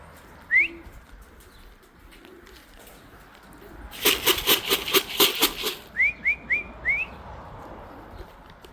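Racing pigeons return to the loft from a 246 km race out of Cape Campbell. A burst of loud wing-flapping clatter sits among short, rising whistled chirps, heard nearby outdoors.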